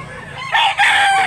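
Roosters crow loudly and close by at a chicken market in Mantalungon, Barili, Cebu, one long crow rising then a second following right after, with a busy murmur of the market underneath.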